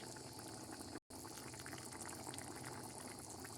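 Kidney beans simmer in a clay pot over low heat with a little mint, giving a steady, close bubbling boil that runs throughout, briefly cut by a short gap of silence.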